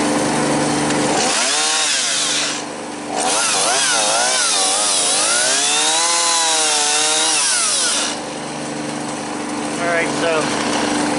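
A chainsaw delimbs a felled log during slash cleanup. Its engine whines loud and close, revving up and down in wavering surges with brief dips between cuts.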